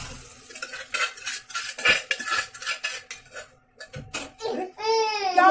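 A spoon scraping and clattering in a pan as food with curry leaves is stirred and flipped in hot ghee, close metallic knocks in bursts, ending with a brief high voice.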